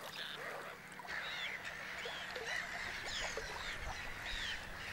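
A flock of geese honks and calls repeatedly, fairly distant and soft, over a steady outdoor background hiss.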